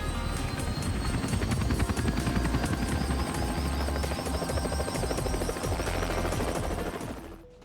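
A helicopter in the stealth video game Hitman roars with a loud, dense rotor thrum and rhythmic chopping pulses, close and steady, then fades out at the very end; no speech.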